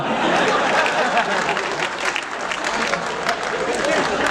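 An audience at a Hindi poetry recital breaks into steady, full applause that holds for several seconds, with some laughter and voices mixed in.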